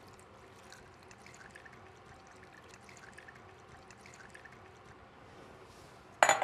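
Water poured into a pot for one-pot pasta, heard as a faint, steady trickling pour that ends in a brief sharper splash or clink.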